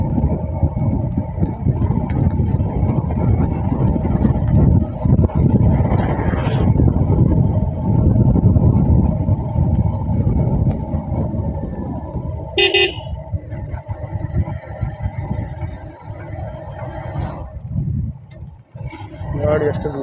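Road noise from an Omni car driving along a busy road, with a steady engine and traffic rumble throughout, a short sharp horn toot around the middle and other honks nearby, and talk underneath.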